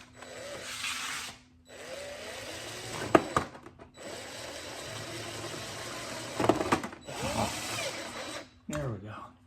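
A power drill drives sheet metal screws into an electric kiln being converted to propane, three whirring bursts separated by pauses, each ending in a clicking bite as the screw seats.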